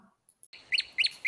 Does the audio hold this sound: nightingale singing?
yes